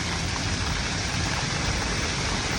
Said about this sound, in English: There's a small waterfall right here.